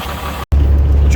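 An International truck's diesel engine idles close by, a loud low steady rumble briefly cut off by a gap of near silence before resuming.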